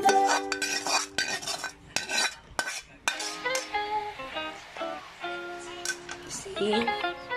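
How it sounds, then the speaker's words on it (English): Egyptian macarona is stirred in a pot, with a spoon scraping and clinking against the metal in irregular strokes, close and clear, with occasional speech between the sounds. "Then, stir it."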